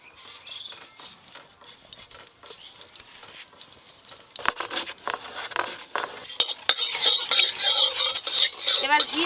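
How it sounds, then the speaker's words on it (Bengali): Ghee is stirred in a kadai over a lit clay stove, first with quiet scattered taps, then with louder scraping, clinking utensil strokes and a light sizzle building toward the end. "প্রথমে আমি কড়াতে ঘি দিয়ে দেব।"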